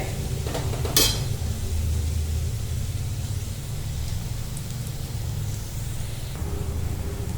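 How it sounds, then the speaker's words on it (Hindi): A spoon scrapes and stirs onion masala with bitter gourd peels in a pan over medium flame, with soft continuous sizzling, a few clinks against the metal near the start and steady low background noise. "बीच बीच में थोड़ा सा इनको चलाते रहेंगे ताकि मसाला तले में चिपक ना जाए।"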